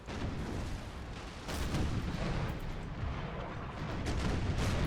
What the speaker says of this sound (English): You going to shoot this guy? Yes, you are. With a couple of cannon at least.